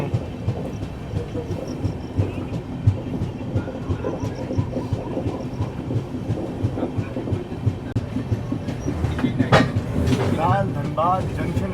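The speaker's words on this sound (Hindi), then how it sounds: "धनबाद जंक्शन रेलवे स्टेशन की ट्रेन जो है वो पहुंच रही है" The 12313 Sealdah Rajdhani Express runs into Dhanbad Junction with a steady, loud rumble and rhythmic clickety-clack of wheels on rail joints, then brief wheel squeals near the end; faint voices murmur under the noise.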